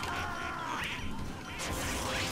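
Ducks quacking at the shooting-gallery carnival in the Team Fortress 2 Halloween event, a few bright quacks over busy game noise and clatter.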